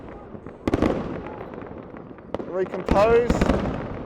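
Distant fireworks bursting over tall city buildings, heard as a few sharp pops and crackles at a moderate distance, with someone talking quietly through most of it.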